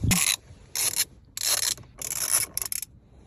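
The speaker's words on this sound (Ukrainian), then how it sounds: "беремо ключ і відкручуємо" A wrench unscrews the steering wheel bolt on a Mazda 6 in a series of close, loud ratcheting and scraping bursts, about five separate strokes with brief pauses between them and no talking.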